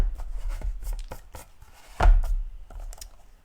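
Paper being cut for a pocket album, a string of short crisp snips close by, then one stronger, heavier cut near the end, with no talking.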